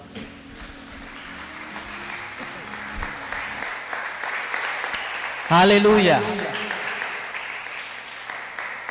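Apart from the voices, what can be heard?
congregation applauding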